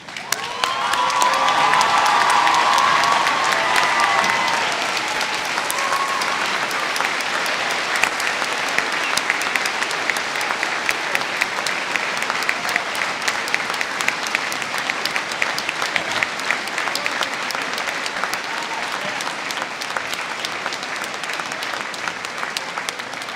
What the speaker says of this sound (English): if we can take a brief moment and stand and clap for the one and only